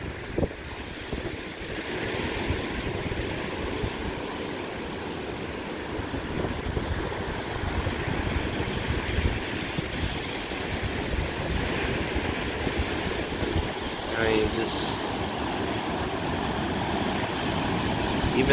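Big surf pounding the Outer Banks shore the day after a storm, a steady broad roar of breaking ocean waves mixed with wind buffeting the microphone, continuous and loud throughout with no talking.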